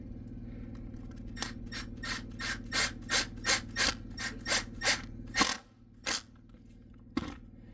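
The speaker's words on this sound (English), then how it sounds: "I'm just gonna scrape off the excess putty right here" A scraper works excess putty off a PVC membrane RV roof in a run of about a dozen rhythmic rasping strokes, close and fairly quiet, slowing to a few scattered scrapes at the end.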